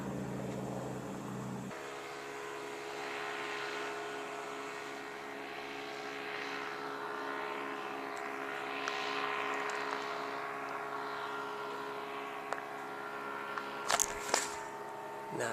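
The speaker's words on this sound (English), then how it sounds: "Yeah, there it is, that's the Spitfire." A Spitfire propeller aircraft flies at an airshow, a distant, steady engine drone with a faint rising and falling tone, followed near the end by a few sharp nearby knocks.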